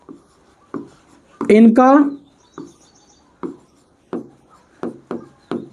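Chalk or marker writing on a classroom board, short scraping strokes repeated at a steady pace, close and fairly loud, with a teacher speaking briefly in the middle.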